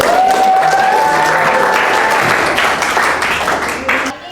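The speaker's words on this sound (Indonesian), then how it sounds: "kasih tepuk tangan" Students clapping in a classroom, a loud, dense round of applause that holds steady and then thins toward the end, with some voices mixed in.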